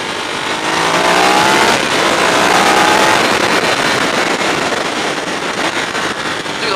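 A 2015 Ducati Hyperstrada's V-twin engine pulls steadily on the road, loud and close, its drone blended with heavy rushing wind noise throughout.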